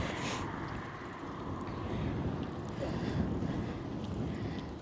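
Steady wind roars and buffets a microphone while riding along a gravel road outdoors, a continuous broadband rush with gusts and no talking.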